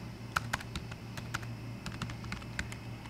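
Quiet clicking of keys on a computer keyboard, a loose run of soft taps over a low steady hum.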